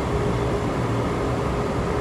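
An LRT Line 2 train heading toward Marikina, near Cubao, rolls past with a loud, steady rumble and rail noise that fills the whole stretch without a break.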